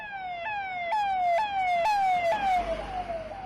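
An emergency vehicle siren on a street in Srinagar, Kashmir wails close and loud in a repeating falling sweep, about two cycles per second, over faint traffic rumble.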